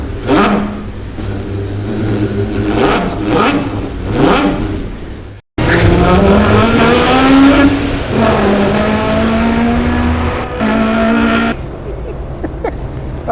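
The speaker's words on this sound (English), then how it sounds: "it was fake sound. Somehow I had to cover the fact that the small engine doesn't make that much sound" A loud, artificial engine sound dubbed over a VW Up! GTI driving through a tunnel revs and climbs in pitch with strong echoing harmonics, broken by a brief dropout, then holds a steady roar before quieting.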